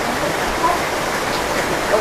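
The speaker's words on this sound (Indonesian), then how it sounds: "karena lagi hujan nih" Steady rain falling outdoors during a fishing outing, a dense even hiss with scattered drop sounds and no talk.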